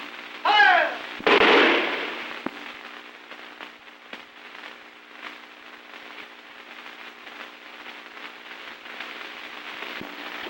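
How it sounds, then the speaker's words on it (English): A firing squad's rifle volley in a 1930 film, one loud sharp crack after a shouted voice, then a low crackly lingering background. "The firing squad."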